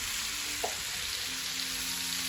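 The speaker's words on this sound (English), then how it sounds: "We've started by cooking some bacon that was diced up into 1/2-inch pieces." Diced bacon in half-inch pieces frying in a pan, a steady, even sizzle with a faint brief tap, close and continuous, without talk.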